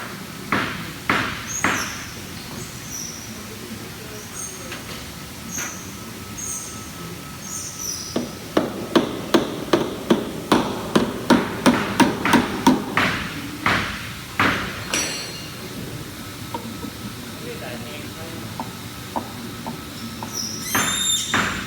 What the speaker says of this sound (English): maybe a little help with tapping it in